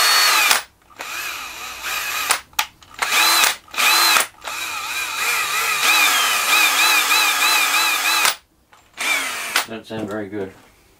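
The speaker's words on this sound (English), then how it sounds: "I think my drill's on its way to burning out" A worn-out power drill running in repeated bursts, a loud whining motor that starts and stops several times with short gaps and wavering pitch, and a voice heard briefly between runs.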